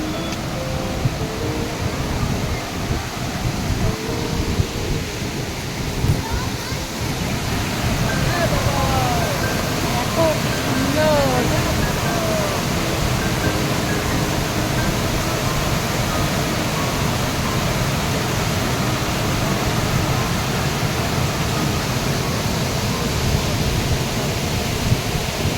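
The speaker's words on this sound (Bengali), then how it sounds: "এখান থেকেই ঝর্ণার শব্দ শুনতে পাওয়া যাচ্ছে।" Usri Falls heard from a distance, a dense, steady roar of falling water that fills the whole scene without a break.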